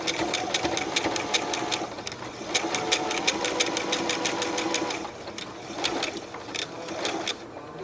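Sewing machine stitching a freestyle cord applique, rapid rhythmic needle clatter in bursts with short pauses as the fabric is turned, close and moderately loud.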